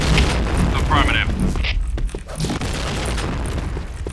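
Grenade explosion in the PointBlank first-person shooter game, a deep booming blast with rumbling low end amid gunfire and game effects, while a voice talks over it.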